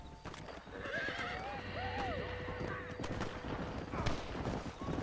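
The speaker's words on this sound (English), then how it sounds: "I hear gunfire." Gunfire from bandits riding through town in the Red Dead Redemption video game, with several sharp shots scattered across a busy scene of horses whinnying and clip-clopping hooves.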